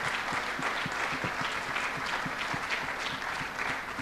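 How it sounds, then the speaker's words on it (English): Audience applause at a church Sunday service for a girl receiving a prize, dense steady clapping from many hands sustained throughout, with a few sharper individual claps standing out near the front. "Let's keep on clapping for Miss Aliza."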